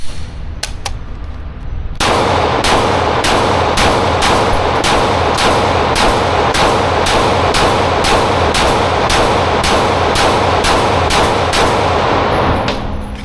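Glock 19 pistols fired in a rapid mag dump at a range, a long run of loud, evenly spaced sharp shots after a few scattered opening rounds, with no talking.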